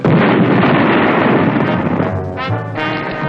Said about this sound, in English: They heard explosions.